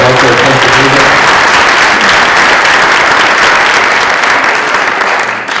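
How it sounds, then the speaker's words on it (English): Loud, continuous audience applause at a Furnace Brook Middle School concert, a dense crowd clapping steadily throughout and tapering off slightly at the very end. "how about a thunderous, well-deserved general applause to Marshfield Friends of Music"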